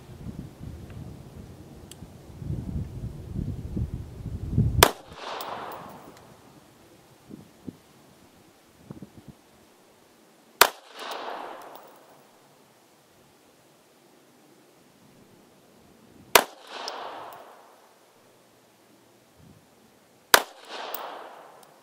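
Four sharp, loud shots from a Polish P-83 Wanad pistol, spaced several seconds apart, each followed by a short outdoor echo tail, after a brief burst of rushing noise at the start.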